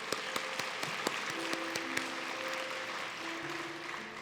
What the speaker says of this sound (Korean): 우리 한번 축복하며 박수하겠습니다